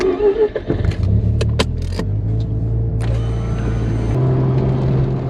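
A Mazda RX-7 FC3S is heard from the cabin on a test drive after a front control arm swap. A steady, loud engine drone and road rumble run throughout, and the pitch steps up about four seconds in.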